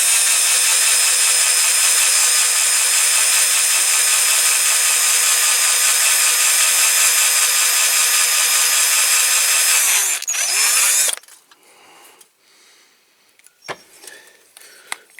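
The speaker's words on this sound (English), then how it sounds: "Don't make your drill spin too quickly, especially when they heat up." A power drill with a 2.5mm bit bores out the rivet post of a die-cast Dinky Toys MG Midget model car, a loud steady whine lasting about ten seconds before stopping, followed by faint handling clatter.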